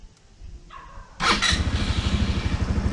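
A new scooter engine sputters briefly, then catches and settles into a low, steady idle with an even pulsing putter, close and fairly loud.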